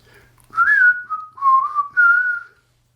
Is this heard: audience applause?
no